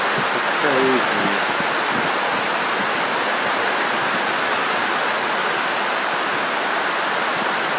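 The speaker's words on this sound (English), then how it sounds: "This is Monsoon Rain." Heavy monsoon rain pours down as a dense, even roar of broadband hiss that stays steady for the whole stretch, with a brief voice near the start.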